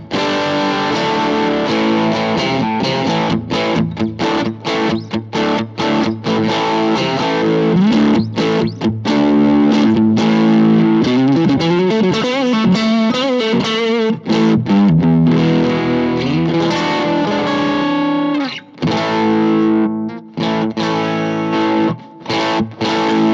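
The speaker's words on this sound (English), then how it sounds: "the Blues Driver into the front of the Blues amp cabinet" Electric guitar played through a Boss Blues Driver overdrive pedal into a Boss Blues amp cabinet gives a loud, crunchy distorted tone, with strummed chords and sustained notes broken by brief pauses.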